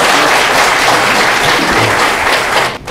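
An audience at an academic conference applauds in a dense, steady burst of clapping that holds loud and close before cutting off near the end.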